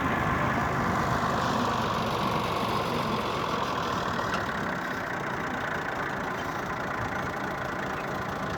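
A tractor engine idles steadily while filling a trolley with sand dug from a 35-foot-deep well, a constant mid-pitched rumble with no break and no voices.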